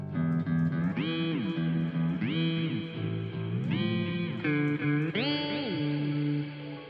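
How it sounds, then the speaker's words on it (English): Electric guitar run through a DigiTech Whammy DT pedal, with notes gliding up and down in pitch in repeated sweeps, loud and continuous with no talking. "So here I'm having the channel 2, which is for the whammy part."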